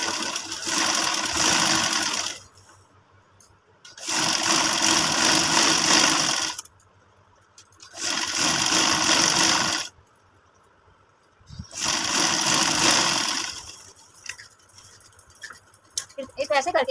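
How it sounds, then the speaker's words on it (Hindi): A sewing machine stitching a men's collar band runs in four bursts of rapid, even whirring, each a couple of seconds long, with quiet gaps between them. "यहाँ पे हमने एक पैर की सिलाई लगानी है"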